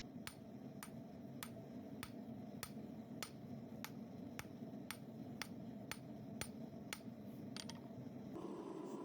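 A rounding hammer strikes hot steel on an anvil while a spoon is forged, sharp metallic ringing blows in a steady, even rhythm about twice a second over a low background hum, moderately distant.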